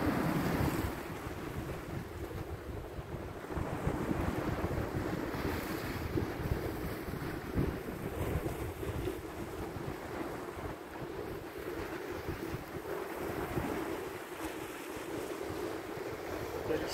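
Sea waves break on the shore on a very cold early morning, a steady, broad wash of surf mixed with wind buffeting the microphone, with no clear pauses between waves.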